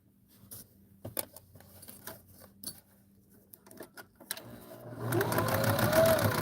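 A sewing machine top stitching fabric, a stuttering run of short stitch bursts that settles into a steadier, louder whir near the end.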